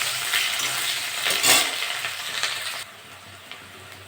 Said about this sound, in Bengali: আমি পেঁয়াজ আর কাঁচা লঙ্কা দিয়ে দেবো